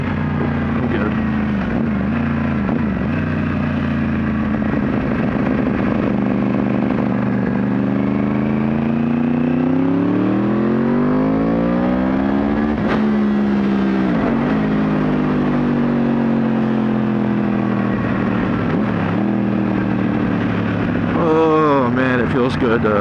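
A motorcycle is ridden steadily for a long stretch, its engine droning close and constant. The pitch rises and falls repeatedly as the throttle opens and eases, with a sharper rev near the end.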